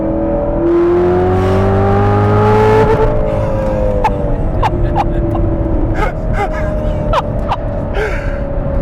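A loud 2019 Chevrolet Corvette ZR1 engine accelerates with a rising whine, then shifts and keeps roaring with sharp pops and crackles as it pulls away.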